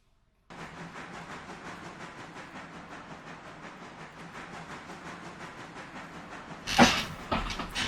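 A train rolls along in the railroad game Railroader, giving a steady rhythmic clatter and a low rumble that build gradually, with a louder burst of hiss and clanking near the end.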